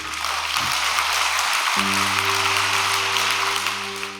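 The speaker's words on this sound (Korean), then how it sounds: "박수 올려드립시다" Audience applause at a church special all-night prayer service, a dense, steady wash of clapping that holds for about four seconds, with a sustained low musical tone entering partway through.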